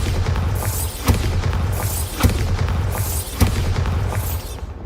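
Bombarda spell explosions in a video game, three deep booming blasts about a second apart over a continuous low rumbling roar, loud and close, with no talking.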